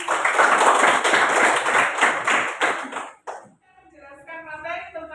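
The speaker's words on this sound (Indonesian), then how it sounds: "Kita kasih tepuk tangan buat Mbak Putri." A school class claps together for about three seconds, the applause loud and close, then breaks off and a voice begins speaking.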